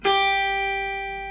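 A single clean guitar note is plucked and rings out clearly, sustaining steadily as it slowly fades.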